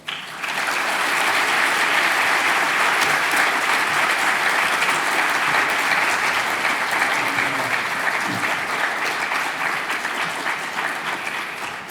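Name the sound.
audience applause welcoming Michael McFaul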